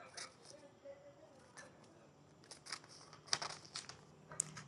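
Scissors cutting in quick short snips, a run of faint sharp clicks and crisp bursts, some closely spaced, heard with a voice speaking nearby.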